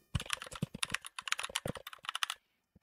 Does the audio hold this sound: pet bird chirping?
no